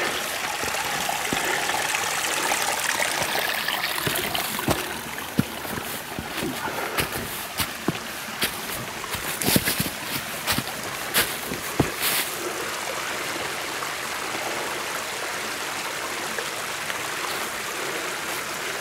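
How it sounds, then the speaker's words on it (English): A small brook runs across a wet, muddy hiking trail on Gunstock Mountain in below-freezing weather, giving a steady close rush of water broken by a few sharp knocks and splashes. "looks like we've got a little bit of flow on this brook"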